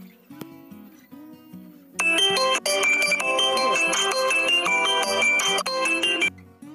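A bright electronic Mi phone ringtone melody plays loudly and continuously after a brief quieter intro, with repeating tonal notes.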